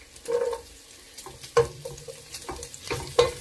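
Garlic fries in a pan for laing, with a low, quiet sizzle broken by several sharp spatula clinks and stirring scrapes.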